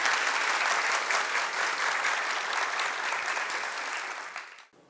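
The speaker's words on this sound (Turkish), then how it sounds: "Tuğba Geçki için kocaman bir alkış istiyorum" Enthusiastic applause from a sizable crowd, loud and sustained, then tapering and cutting off abruptly near the end.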